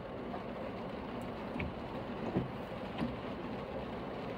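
Steady rain falls on a street in Mogi Guaçu, São Paulo, during the Christmas lights season, a continuous broadband hiss with faint traffic rumble and a few soft knocks. No one speaks.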